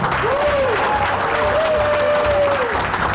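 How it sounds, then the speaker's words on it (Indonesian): A television show audience applauds loudly and continuously to welcome a new host, with steady dense clapping throughout and a whistle or cheer rising over it. "tepuk tangan yang meriah untuk Putra Papua, Michael Jakarim Melena."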